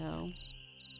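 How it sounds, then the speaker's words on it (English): Crickets chirp in a steady, high, continuous drone in the Nancy Drew: Ghost Dogs of Moon Lake video game, set outdoors by a lake. Someone speaks briefly over the opening before the insect hum carries on alone. "I think I need to hear the chirping, like the critter sound."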